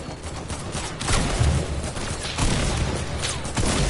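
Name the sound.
gunfire in Fortnite video game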